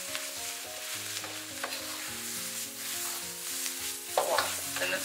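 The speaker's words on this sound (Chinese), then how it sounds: "然后继续给它煸炒，炒至辣椒里面有肉味，肉里面有辣椒味" Pork and chili peppers stir-fry in a wok for Hunan spicy pork, with a constant sizzle under repeated scraping and clinking of a spatula against the metal.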